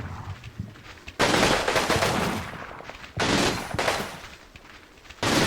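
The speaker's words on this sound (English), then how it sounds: "They keep throwing rifle or shooting rifle grenades at us." Gunfire and rifle grenade blasts from the Combat Mission video game crack out in loud, dense bursts and volleys, separated by short quieter gaps of rattling fire.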